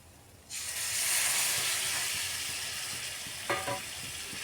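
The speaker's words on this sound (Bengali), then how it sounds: "এবার দিয়ে দিতে হবে পরিমাণ মতো জল।" Water hits a hot pan of spiced potatoes for a fish egg curry and bursts into a loud, sudden sizzle. The hiss stays strong and steady, with a clatter of utensil partway through, and nobody speaks.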